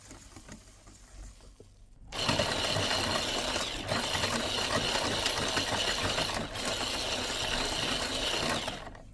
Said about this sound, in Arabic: وكنبداو نخلطو بشويه حتى كينساو الخليط